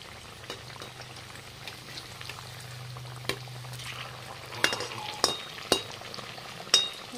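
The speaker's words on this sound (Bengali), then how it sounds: "এবার সব কটা লাল করে ভেজে নেব।" Bitter gourd pieces frying in hot oil until browned, giving a steady close sizzle with a few sharp utensil knocks and scrapes toward the end; nobody talks.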